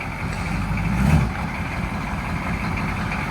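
A 1985 GMC Suburban with a non-turbo diesel engine and dual exhaust idles nearby, a steady low rumbling drone with a brief swell in loudness near the start and no talking.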